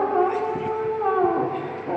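A performer's voice imitates a dog's long, wavering howl, loud and close, held in sustained mournful tones during a mimicry performance at a Kerala school arts festival.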